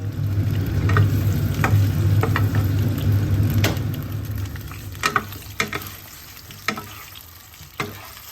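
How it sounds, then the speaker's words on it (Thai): Isan sausages fry over low heat in a Korean pan, with a steady sizzle and occasional clicks and scrapes from stirring or turning, no voices present. "เราจะมาทอดไส้กรอกอีสานแทนคุณด้วย กระทะจากเกาหลี"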